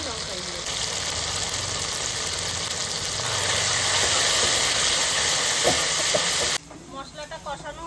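Spice paste of ginger-garlic, cumin, salt, turmeric and Kashmiri chili powder sizzling in hot oil for a chicken dish, a loud continuous hissing fry that cuts off abruptly near the end, with faint voices underneath.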